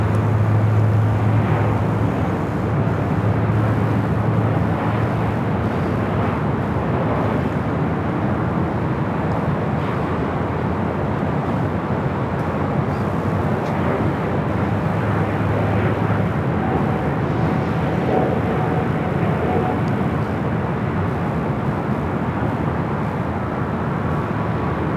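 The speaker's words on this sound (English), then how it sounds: "Next arrival is Southwest Airlines Flight 1770 coming in from Oakland at a" A Southwest Airlines Boeing 737-700 arriving at LAX from Oakland, its loud, steady jet roar filling the air without a break, close and continuous from start to finish.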